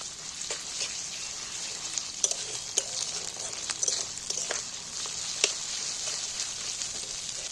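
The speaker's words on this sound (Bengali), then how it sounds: "আর এখানে টমেটো কুচিগুলো তুলে দিচ্ছি এবার আদা টমেটো সব একসাথে তেলেতে এইবার ভালো করে" Grated ginger and chopped tomato fry together in hot oil, giving a steady close sizzle broken by irregular scraping stirs and small clicks of a spatula against the pan.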